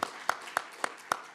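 Sparse, evenly spaced hand claps, about six in a steady rhythm, sound faint and thin during a Friday church worship service, with no voices over them.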